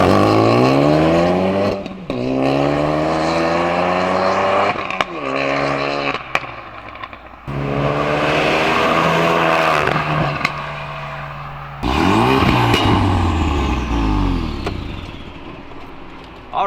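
Ford Focus RS on an all-wheel drive launch, its engine revving hard and climbing through gears in several loud, rising pulls with brief lifts and pops between them, close and dominant.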